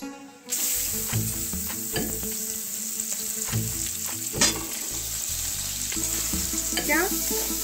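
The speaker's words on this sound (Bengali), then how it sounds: "একটু সুগন্ধ বেরোলে আমি এর মধ্যে দিয়ে দেব আমার 15 মিনিট ভিজিয়ে রাখা বাসমতি চালটা" Soaked basmati rice for Kashmiri pulao frying in a pan, with a loud continuous sizzle and repeated clanking stirs of a spoon against the metal, close and without speech.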